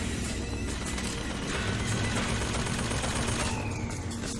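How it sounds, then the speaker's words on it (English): Continuous gunfire rattles through a BioShock Infinite firefight, dense overlapping shots and mechanical clatter sustained over several seconds with no pause. "Something shooting."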